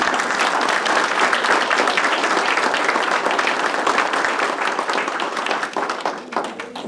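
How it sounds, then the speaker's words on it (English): A large crowd applauds steadily, loud and sustained, with dense clapping that tapers slightly toward the end. "I think we need to give them one more round of applause."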